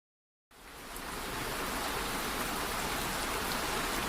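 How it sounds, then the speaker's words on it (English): Gentle rain falling over a medieval village sets in abruptly after a moment of silence, then holds as a soft, steady, even hiss of countless drops with no voices. "Rain drifted softly across the medieval village, wrapping the whole village in a muted grey"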